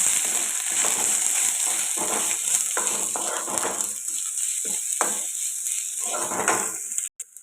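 Masala spices with ground coriander and chopped tomato sizzle steadily in a pan for a chicken curry, a continuous close frying hiss with occasional stirring scrapes, and it cuts off abruptly at the end.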